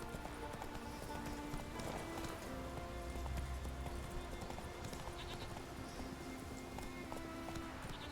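Roach the horse gallops in The Witcher 3 game, with rhythmic clip-clop hoofbeats running steadily over low ambient music and game sounds, moderately quiet.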